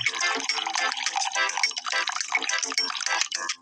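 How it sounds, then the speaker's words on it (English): Milk pours in the café game Papa's Mocharia as a choppy, bright, splashing liquid sound effect that goes on for several seconds. "Keep pouring, holding the pour button."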